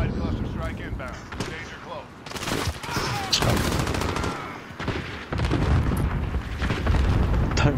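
Rapid automatic gunfire and bursts of shots fill a Call of Duty Modern Warfare multiplayer match, loud and dense with blasts, while a player talks over the action.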